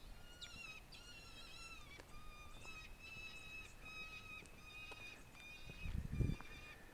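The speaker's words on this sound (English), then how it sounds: "What kind of bird is that?" An unidentified bird on a chaparral hiking trail in Mission Trails Regional Park, San Diego, gives repeated shrill screeching calls in short rhythmic bursts, faint and distant over wind with a brief rustle.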